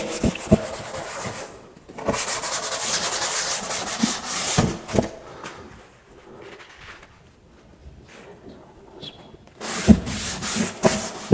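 Chalk being rubbed off a board, several bursts of dry scrubbing and brushing strokes, near and fairly loud, separated by quieter pauses.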